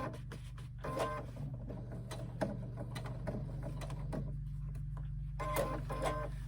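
A sewing machine stitches around the curve of a JoJo handbag in short bursts of one or two stitches, with clicks and pauses between them as the work is lifted and turned, quiet and close.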